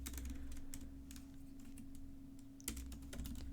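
Quiet, close typing on a computer keyboard, a steady patter of individual key clicks with a couple of firmer strikes over a faint electrical hum, no voices.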